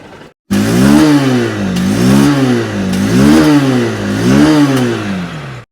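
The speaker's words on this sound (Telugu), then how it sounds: "ఇంజన్ రిఫైన్మెంట్ అయితే ఒకసారి వినండి" A 2025 Honda Unicorn OBD2B single-cylinder motorcycle engine revs repeatedly, rising and falling in steady waves over a loud idle, close and alone with no voices.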